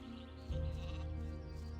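Sheep bleat in the video game Gothic II on a farm setting, a drawn-out nasal bleat rising over a steady background of game ambience and music.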